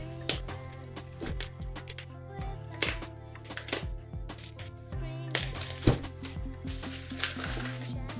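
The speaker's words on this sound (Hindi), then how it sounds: "तो अब हम जल्दी से इस पॉलीथीन को हटा लेते हैं।" Polythene plastic wrapping is peeled and crinkled off a Realme 5 smartphone box, with close, irregular crackling and rustling bursts throughout and no talking.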